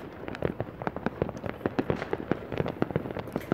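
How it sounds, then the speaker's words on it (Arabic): Fireworks burst over a Yemeni village during a Mawlid celebration, a dense, continuous run of crackling pops and bangs, some louder and closer, overlapping without pause. "شوفوا القرية، العاب نارية، شوفوا كيف"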